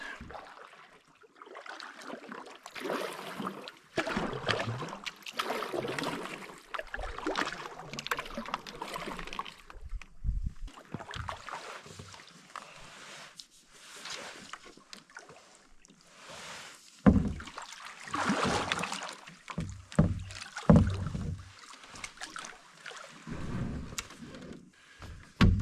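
A canoe paddled from a kneeling position makes intermittent splashes and dips on the water, with irregular paddle strokes over a breezy outdoor background and no talking.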